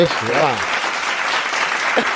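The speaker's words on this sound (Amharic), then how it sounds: "ሞቅ ያለ ጭብጨባ" A voice speaks briefly, then a group breaks into warm applause, a steady clatter of clapping that carries to the end.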